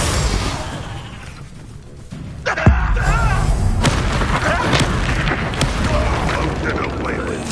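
Bombarda spell explosion in the Hogwarts Legacy video game, a sudden loud boom with a crack mid-clip followed by sustained rumbling battle noise, with voices talking throughout.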